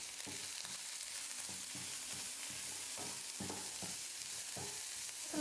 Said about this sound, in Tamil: வெங்காயம் சேர்த்து 1 நிமிஷம் நல்லா வதக்கினதுக்கப்புறமா